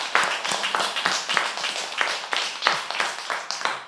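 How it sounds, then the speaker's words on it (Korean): A church congregation at a Sunday service applauds to bless a family, giving a dense, steady burst of many hands clapping close by and filling the room. "우리 이렇게 대접하는 저 귀한 가정을 축복하며 축복의 박수를 보내시기 바랍니다."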